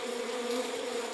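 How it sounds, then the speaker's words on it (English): Bees buzzing close by in a steady, droning hum that holds evenly through the whole short moment, with no talking over it. "These are bees!"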